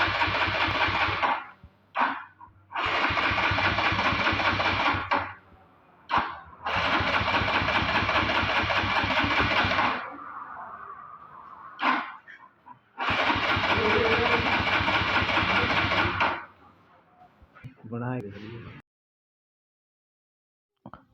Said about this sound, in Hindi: यहाँ पर देखिए सेल्फ लगा रहा हूँ बाइक में।